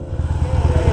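A mini bike engine runs steadily close by, a low chugging mid-range drone with a constant pulsing rhythm throughout, alone with no talk.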